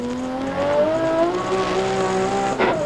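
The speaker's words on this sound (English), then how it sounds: "Mark SKAIFE, of course, driving the second Nissan here today" Nissan touring car racing at Oran Park in the 1990 Australian Touring Car Championship: loud engine whine rising through gears as cars pass close, with a brief burst near the end.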